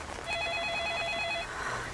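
Telephone ringing indoors, a single sustained electronic ring tone lasting about a second, moderately loud over a background of room noise.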